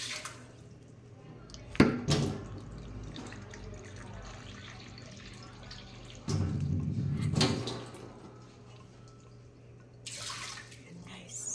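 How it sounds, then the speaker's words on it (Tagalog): Water poured into a steamer, two cups' worth, while preparing squash, carrots and egg for breakfast; two short bursts of pouring and splashing stand out over a low room hum, with quieter drips and handling between. "Tapos ang itong steamer butangan ako siya 2 ka cup nga tubig."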